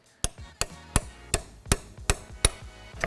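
Sharpened old punch struck with a hammer to open a hole on a BMW ZF transmission: eight sharp metallic taps at a slow, steady rhythm, close and clear with no talk.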